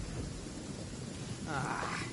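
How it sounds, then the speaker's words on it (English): Thunder from a lightning storm in a video game, a low rumble under steady rain-like noise that swells near the end with a brighter crackling roll. "Uh-oh! Lightning storm!"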